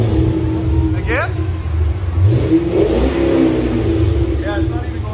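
A Pontiac GTO with a 6.0L V8 and Bassani cat-back dual exhaust revs in a loud, steady engine roar with a rising sweep, close by, while people talk over it.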